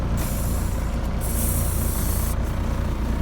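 Truck air brakes releasing with sharp bursts of hissing air, two distinct blasts, loud and close over a low idling diesel engine.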